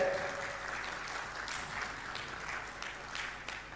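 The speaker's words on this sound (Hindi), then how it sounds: "एक बार जोरदार जोरदार तालियों से नायक जी का स्वागत।" Faint, steady applause from a gathered audience at a religious question-and-answer session, distant and even with no talk over it.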